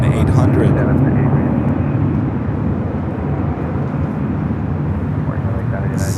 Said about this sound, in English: Our next arrival here on the north side is Southwest Airlines Flight 2496, coming in from Denver